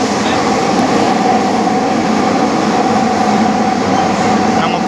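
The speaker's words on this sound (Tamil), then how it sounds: "ட்ரெயின் அப்படியே திரும்புது பாருங்க" A Mumbai metro train moving and turning, heard from inside as a loud, steady rumble of wheels and carriage noise that continues throughout.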